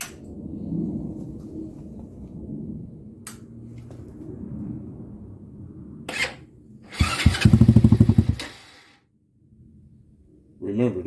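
A carbureted Big Rusi 400cc motorcycle fitted with a Venom X22 muffler idles with a low burble, then is revved in a loud, rough burst before dropping back, alongside bursts of nearby noise.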